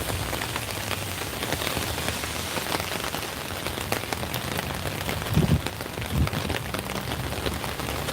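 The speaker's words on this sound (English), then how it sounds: "he said it's raining out there too" Steady, dense rain patters continuously on a surface outdoors, an even hiss with no voices, broken only by two brief low thumps near the end.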